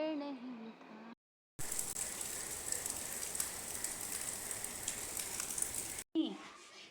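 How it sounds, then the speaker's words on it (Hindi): Steady rain pours down outside a home, a dense, even hiss holding for several seconds, framed by a brief voice and sounds before and after it. "आज बारिश हो रही है"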